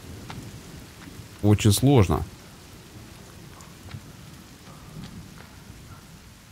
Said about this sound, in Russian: Резко так гроза пошла и прям дождик ливанул.